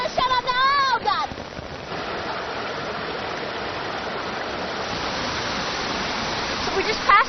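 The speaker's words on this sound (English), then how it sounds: "So this is the waterfall, you see" A waterfall in a gorge roars as a loud, steady wash of rushing water filling the whole stretch, with a voice speaking briefly at the start and again at the very end.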